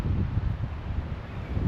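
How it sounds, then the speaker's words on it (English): Wind buffets a hilltop campsite near trees, a steady low rushing roar with gusty swells and no voices. "It's a little bit windy today, so we're as close as we can get to these trees to sort of provide a bit of a windbreak."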